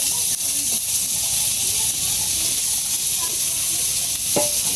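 Dried chillies and onions frying in oil for shutki bhorta, a loud, even hiss of sizzling throughout with a few faint stirring knocks and no talking.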